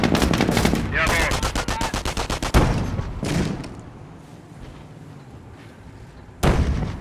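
Rapid machine-gun bursts and heavier artillery fire in the World War II strategy game Company of Heroes: loud, close rattling volleys, then a dull boom, fading to a quieter rumble before a sharp final burst.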